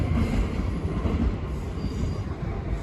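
A train rumbles through a London railway station at Richmond or Clapham Junction, a loud, close, continuous roar of wheels on track with faint squealing and no voices.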